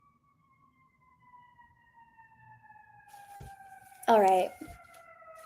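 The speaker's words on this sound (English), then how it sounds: "you can hear the sirens even from all the way in here" Sirens heard from indoors wail faintly and continuously in the background, slowly drifting in pitch, with a person briefly speaking up close partway through.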